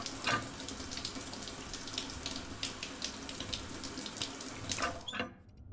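Steady water stream running in a shower in the Stationeers game, a continuous broadband hiss with a few faint clicks, near and alone, cutting off abruptly near the end.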